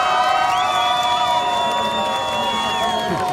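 Italo Ferreira's fan club cheering at the Billabong Pipe Masters surf contest, a crowd shouting and whooping continuously with high cries rising over the roar.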